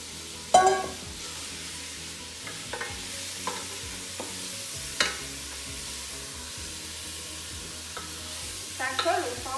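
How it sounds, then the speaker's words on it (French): Butter melting in a pot ahead of cooking chicken, a soft low sizzle under occasional stirring clinks and scrapes, the loudest knock near the start and a short bustle at the end, no voices. "on va attendre que le beurre fonde"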